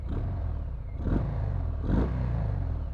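A Harley-Davidson FXDR 114 motorcycle engine runs with a deep steady rumble, close and fairly loud, with two brief swells in the throttle about a second apart.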